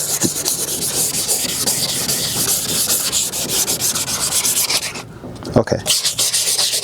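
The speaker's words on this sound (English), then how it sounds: "you want to go the other way and give it a good sand" A plastic car headlight is sanded by hand with 500 grit sandpaper, giving rapid back-and-forth rasping strokes, close and continuous, with a brief pause near the end before the rubbing resumes; a voice speaks briefly.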